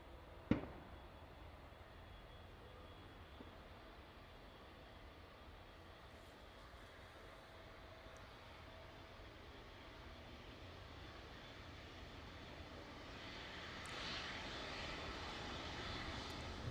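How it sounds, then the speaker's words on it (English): Distant DHL Boeing 777 cargo jet in from Cincinnati touching down at East Midlands Airport in the evening with reverse thrust deployed, a steady far-off engine roar that swells toward the end, with a sharp knock early on. "touching down those with the reverse thrusters. You can just hear those being deployed in the distance there."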